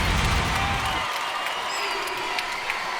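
A college gymnastics arena crowd at an Arizona versus LSU meet applauds and cheers loudly for about a second, then the noise settles into a softer murmur of arena ambience.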